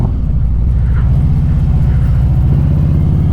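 A 2024 Harley-Davidson CVO 25th anniversary motorcycle on a test ride, its engine a loud, close, steady throbbing rumble with a low pulsing beat that holds throughout.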